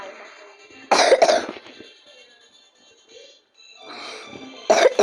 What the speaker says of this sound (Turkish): Çok fazla öksürebilirim,